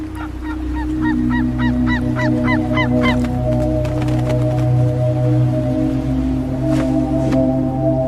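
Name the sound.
Steller's sea eagles calling in Japan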